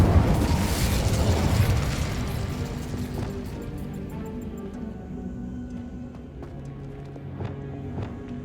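A fiery Incendio spell cast in the Hogwarts Legacy video game bursts loudly up front, then fades into a crackling, rumbling tail with a few small pops and clicks over several seconds.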